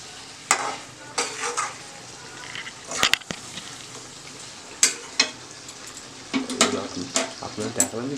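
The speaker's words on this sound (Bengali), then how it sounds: "এবার একটু মিট মশলা বসিয়ে দিচ্ছি, মাখিয়ে দিচ্ছি।" Mutton being stirred with meat masala and yogurt in a pressure cooker pot, irregular scraping and clattering strokes of a spoon against metal over a low sizzle, with occasional sharp knocks and a voice talking in between.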